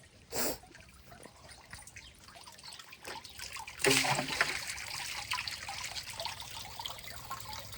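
Water from a tank filled by an electric pump motor trickles and splashes steadily, growing louder partway through after a brief thump, with faint voices in the background.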